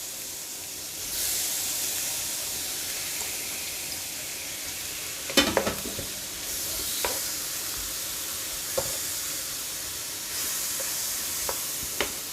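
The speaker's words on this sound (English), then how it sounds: "Go ahead and throw in our shrimp" Peeled, deveined extra large shrimp hitting a hot hibachi-style pan: a loud burst of hissing sizzle swells, with a cluster of sharp clacks as the shrimp drop in, then steady frying and occasional spatula taps.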